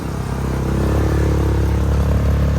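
A motorbike engine drones steadily with a rough, rattling mid-pitched rumble while riding onto a dirt road alongside ATVs, loud and continuous with no talk.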